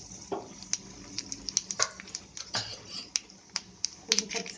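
Mustard seeds and cumin popping and sizzling in about two spoons of hot oil for a South Indian tempering, with sharp scattered crackles and snaps over a soft steady hiss, close by and moderately quiet.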